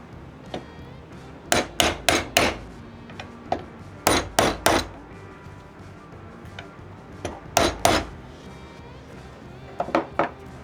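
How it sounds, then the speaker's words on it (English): A wooden mallet taps a hand-cut dovetail joint together in a woodworking shop, giving sharp knocks in small clusters of two or three, spaced irregularly over about ten seconds, close and alone. "just a few taps with the mallet will get it to sit right"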